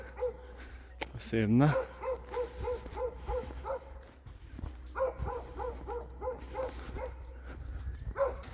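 A dog barks repeatedly at middle distance beside a small farmstead on a forest walk, sharp barks in uneven bursts over steady outdoor noise, with someone talking over them.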